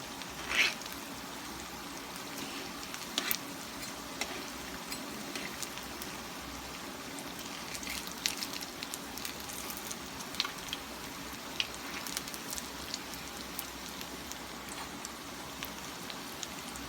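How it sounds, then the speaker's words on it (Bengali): A semolina and raw potato snack deep frying in oil until crisp, a dense, even crackle and bubbling like light rain, steady and close with occasional faint clicks and no talk. "লাল মুচমুচে করে ভেজে নেব"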